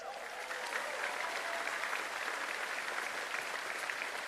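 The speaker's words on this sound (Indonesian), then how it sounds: "saya pengen minta tepuk tangan yang paling meriah kepada dua ketua umum kita" An audience at a political party speech gives a sustained, even round of applause, a broad wash of clapping from a large crowd heard at moderate distance.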